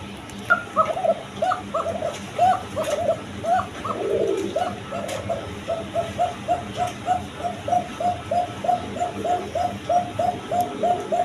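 Basiras Koka pigeons, a pair, coo in a steady run of short repeated throaty notes, fairly close and clear over a constant background hum.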